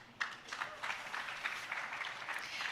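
Scattered hand claps from an audience at a financial summit, a short, moderately loud burst of clapping that carries steadily through without any talk.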